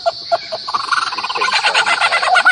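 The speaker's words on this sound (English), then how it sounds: "George Lucas should be recording this bird" A bird calls in a rapid, rattling series of gobbling, fowl-like notes, close and loud, speeding into a dense chattering run over a few seconds, heard alone without talk.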